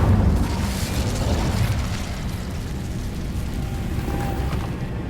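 A Hogwarts Legacy Incendio fire spell bursts with a dense roaring rush of flame, loud at the start and then settling into a steady crackling roar for several seconds.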